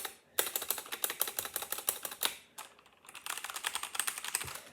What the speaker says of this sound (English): Then we're gonna go to the best sounding keyboard.